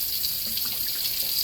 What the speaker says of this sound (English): Pour me some dishwater.